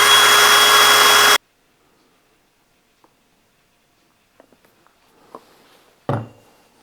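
A power drill whirs steadily for about a second while pre-drilling a screw hole in wood, then stops, leaving near silence broken by a few faint clicks and a short bump.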